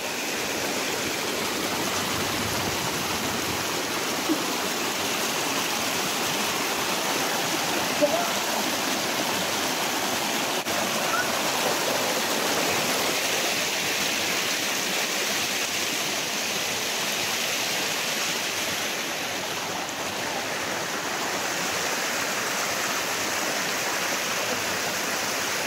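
Strong river current rushing steadily at a riverside camp in Tanay, Rizal, a dense, continuous broadband roar of flowing water, close and loud throughout with only slight swells.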